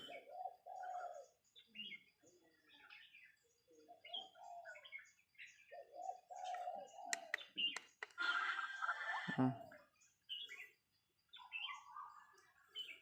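A watercock kept as a decoy for bird trapping calls in short bursts of low, hollow cooing notes mixed with brief chirps, fairly quiet, with scattered rustling and handling noise between calls.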